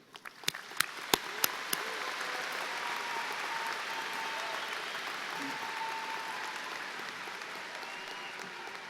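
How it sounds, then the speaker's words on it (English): Audience applause for the seniors at a high school graduation ceremony, opening with a few sharp individual claps that swell into a broad, steady wash of clapping from a large crowd heard at some distance. "I want to give you a chance once again with your applause to recognize this outstanding group of seniors."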